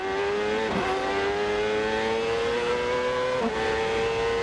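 A Honda CART race car engine at the 1999 Long Beach street race labours at low RPM in second gear, a close, loud and steady buzzing drone with two brief pitch wobbles and no talk.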